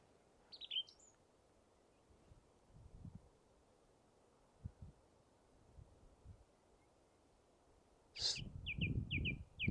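Song thrush singing on an evening walk on Ventnor Downs on the Isle of Wight, faint short phrases of high notes at the start and a louder repeated burst near the end, over light wind rumble.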